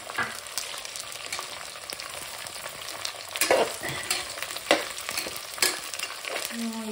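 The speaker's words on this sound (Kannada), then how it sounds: "ಎಲ್ಲ ವೆಜಿಟೇಬಲ್ಸ್ ಫ್ರೈ ಆದಮೇಲೆ ಲಾಸ್ಟಿಗೆ ಟೊಮ್ಯಾಟೊ ಹಾಕೋತೀನಿ ರೀ." Vegetables with peas and tomato frying in a pan for vegetable biryani, a soft continuous sizzle with light scraping stir strokes close by, no speech.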